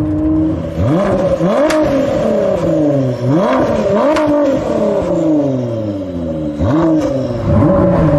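Ford GT fitted with a Quicksilver Inconel exhaust, heard from outside as it revs repeatedly in sharp rising and falling sweeps, loud and close, with crackling snaps between the blips.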